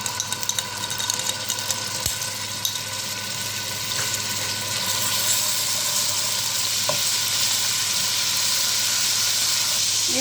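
Garlic fries in hot oil in a pan, giving a steady sizzling hiss with occasional light clinks and stirring noises, close and continuous, with a low hum underneath and no talking.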